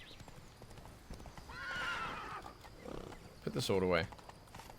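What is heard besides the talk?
horse Roach riding, hoofbeats, from video game The Witcher 3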